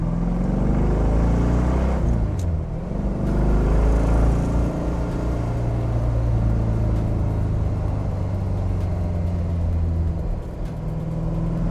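A 1965 Corvette C2 Stingray with a 444-horsepower engine and four-speed manual rumbles steadily at close range, a deep, loud idle-like drone with a brief dip in pitch early on, alone without talk.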